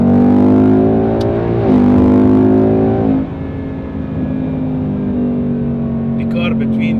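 A deep, loud Ford Mustang GT V8 exhaust roars and revs up, pitch rising then settling into a throaty, rumbling idle, close by.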